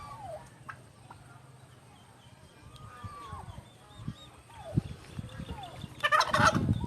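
Turkeys gobble at a farm among chickens, with several short warbling calls rising over quiet background, plus a louder burst of clucking and rustling near the end.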